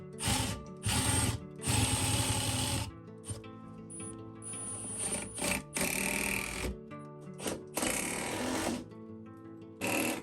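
A power driver whirs in repeated bursts as lag screws are driven into a solid plywood wall in a tiny bathroom, close and loud, the motor starting and stopping several times with short pauses between runs.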